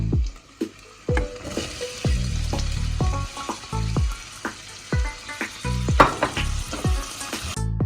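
Onions and carrots sizzle in a pan for a pizza tomato sauce while a spoon scrapes and knocks against the pan in uneven bursts, close and fairly loud.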